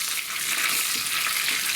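Cashews, curry leaves and green chilli pieces are stirred in hot ghee for khichdi, making a brief, steady, close sizzling hiss.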